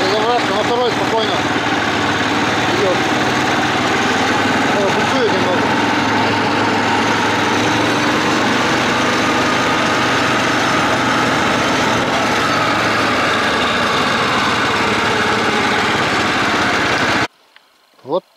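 A snowmobile engine runs loud and steady with a rough, buzzing drone that stops abruptly near the end.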